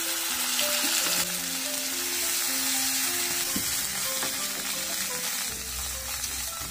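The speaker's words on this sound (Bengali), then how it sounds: "পেঁয়াজ হালকা বাদামি করে ভেজে নিয়েছি" Chopped onions and onion paste fry in oil for a prawn curry, a dense continuous sizzle with soft stirring beneath, steady and close, alone without any voices.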